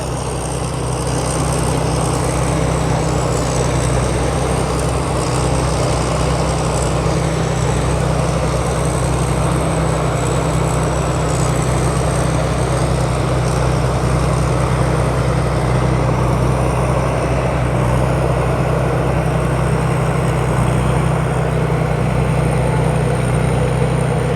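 A Temco Pro S7000 farm machine's engine runs at a steady, loud drone, unbroken and close for the whole stretch, with no voices over it.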